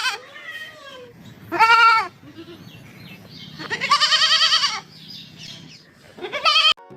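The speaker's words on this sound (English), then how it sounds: "G for goat." A goat bleats in several separate, quavering calls, loud and close, with short quiet gaps between them.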